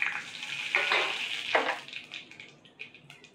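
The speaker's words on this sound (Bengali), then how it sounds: "এবার ফোড়নে আমি দেবো কালো জিরে আর রাঁধুনি।" Nigella and radhuni seeds dropped into hot oil in a kadai, just used for frying lentil fritters, give a brief bright sizzle with a couple of loud crackling bursts that settle into a softer hiss.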